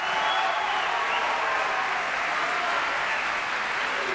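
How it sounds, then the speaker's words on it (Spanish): Sustained applause fills the Argentine Congress chamber during a session opened by Cristina Kirchner, a dense, even wash of many clapping hands that stays loud and steady for several seconds with no voices standing out. "ahí lo que están aplaudiendo es que se han determinado las nuevas autoridades"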